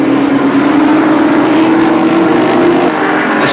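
A Volvo touring car races in the 1986 Australian Touring Car Championship at Barbagallo, another car close on its tail; a loud, steady engine roar holds a constant drone throughout with wind rush and no voices.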